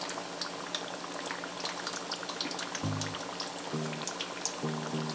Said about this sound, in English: we're gonna fry them on one side for 4 minutes, then turn them over and fry them on the other side